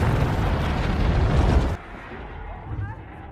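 Thunder triggering a snow avalanche: a loud, sustained rumbling roar with heavy low-end crash for over a second, then it cuts off abruptly to a quieter, fading rumble.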